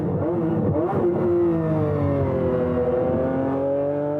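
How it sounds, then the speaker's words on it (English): A six-litre, 600-horsepower BMW V12 in a supercar revs loud and close, its smooth tone climbing and sliding through gear changes with no voices over it. "It's a BMW V12, and it's as smooth as silk"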